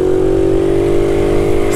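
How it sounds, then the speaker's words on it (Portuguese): A modified Honda Biz motorcycle engine runs close by at a steady, loud, buzzing pitch, holding an even note throughout without any clear rise or fall. "Achei que tinha caído neutro a moto."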